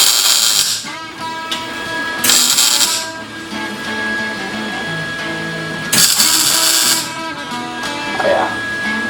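MIG welder running on steel C-channel, loud close crackling hiss in several bursts separated by quieter gaps, with a steady tonal hum beneath.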